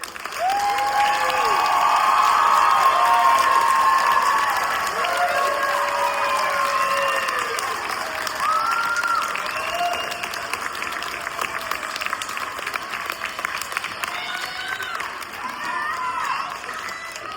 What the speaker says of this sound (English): Please join me for one more round of applause for all of our graduates.